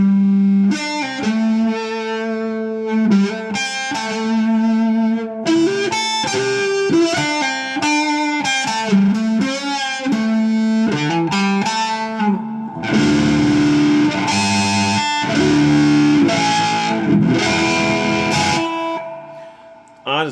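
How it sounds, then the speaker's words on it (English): Electric guitar played through a Systech Overdrive Treadle distortion pedal with volume fully up, giving a loud, sustained overdriven tone: picked chords and riffs, then heavier, denser strummed chords in the second half, played alone without talk. "We will roll back the distortion a little bit."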